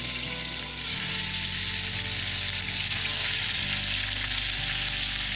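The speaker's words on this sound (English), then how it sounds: "All right, so we got our butter and oil heated up. We're just gonna go ahead and dump these in." Shrimp dumped into hot butter and oil in a pan, frying with a loud, steady sizzle and crackle throughout, close by with no talking.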